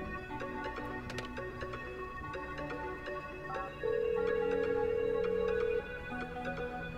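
Telephone ringing in the GTA V Online video game, a repeating electronic ringtone melody with a sustained tone in the middle, played alone with no talk.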